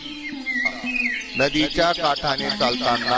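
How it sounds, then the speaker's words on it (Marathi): A few high bird chirps sound faintly behind someone narrating. "आजूबाजूला पक्ष्यांचा किलबिलाट ऐकू येत होता"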